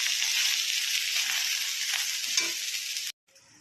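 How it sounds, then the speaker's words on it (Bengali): Water hits a hot pan of frying vegetables and bursts into a loud, bright, continuous sizzle lasting about three seconds, then stops abruptly into near quiet. "এবার আমি জল দিয়ে দিচ্ছি"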